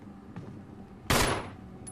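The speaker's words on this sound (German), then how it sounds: "Vorsichtshalber mal drauf geschossen." A single sharp gunshot burst in the Resident Evil survival-horror video game, exploring the Spencer Mansion, one loud crack against quiet ambient game sound, with a faint click after.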